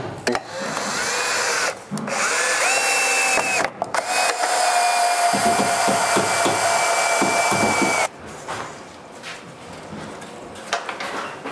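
A power drill drives screws to fix a pocket door frame in place on a new construction site, whining loudly in several bursts of varying length separated by short pauses, with rising and falling motor pitch.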